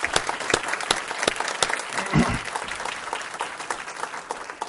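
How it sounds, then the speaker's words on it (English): An audience at a Sarasota County school board meeting applauds for presenting students and teachers, a dense, steady round of clapping that carries on for several seconds and slowly thins out. "let's give them another round of applause"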